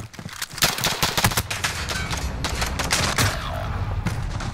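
Rapid bursts of video game gunfire, close and loud, the shots crackling in fast automatic strings that run almost without pause throughout.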